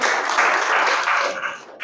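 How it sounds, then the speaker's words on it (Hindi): An audience claps together in a short burst of applause, dense and fairly loud, tapering off toward the end. "देखिए, इनके लिए ताली बजाइए।"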